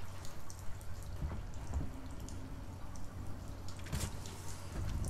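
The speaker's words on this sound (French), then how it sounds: "C'est de l'eau ça, hein?" Water drips in the dark corridors of the video game Alien Isolation, with sparse, faint drops falling irregularly against a low ambient hum.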